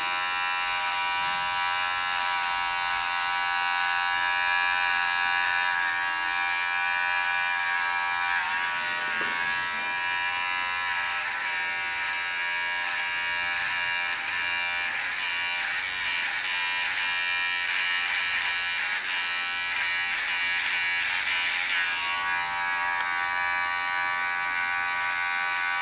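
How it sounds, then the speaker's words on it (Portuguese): A finishing hair clipper buzzes continuously near the head while detailing a freestyle haircut, a steady close electric hum with slight shifts in tone as it moves across the scalp, and no talking. "com a máquina de acabamento eu consigo detalhar melhor os meus traços"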